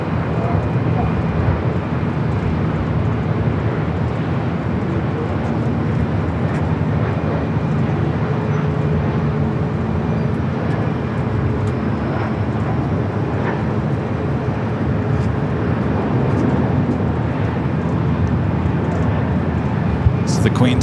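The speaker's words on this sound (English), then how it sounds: "here it comes the Queen, flight 457 heading back to Frankfurt" A Boeing 747 on Lufthansa flight 457 bound for Frankfurt at LAX, a continuous heavy jet rumble filling the scene at steady loudness, with voices talking over it.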